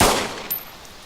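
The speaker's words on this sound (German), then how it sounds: "Hat einer von euch gerade geschossen?" A single gunshot in the game DayZ, a sharp loud crack at the start that decays quickly, followed by a fainter click or second report.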